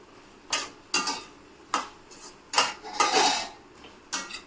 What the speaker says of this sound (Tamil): சோயா கொஞ்சம் போட்டுடலாங்க. இதையும் நல்லா கொஞ்சம் வதக்கி விட்டுக்கலாங்க.